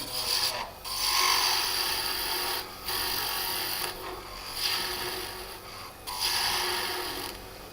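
A wood turning tool hollowing out a small wooden ornament on a lathe, giving scraping, rasping cuts in several bursts separated by short pauses, fairly close and moderately loud.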